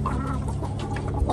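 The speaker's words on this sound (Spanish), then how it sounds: "Aquel gallo que está allá y este son de la misma que esa gallinita." A rooster clucks close by in a farmyard, a run of short throaty clucks at fairly loud level, heard alone without talk.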